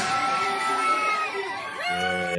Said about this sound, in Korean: 함성으로 바뀌네요